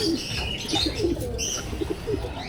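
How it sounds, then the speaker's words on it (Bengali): Army pigeons cooing in a loft, soft low coos repeating through a steady murmur of birds, with a few faint chirps mixed in; no voices. "এটা আর্মি কবুতর"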